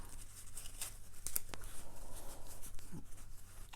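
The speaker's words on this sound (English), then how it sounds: "I'm going to shuffle up the decks" Decks of Five Crowns playing cards are shuffled close by, with quiet papery riffles and sharp flicking snaps at irregular intervals and no talking.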